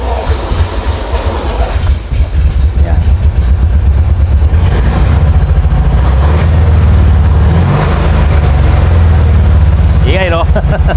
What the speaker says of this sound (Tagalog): Medyo maingay ito kasi naka-headers po ang tambucho nito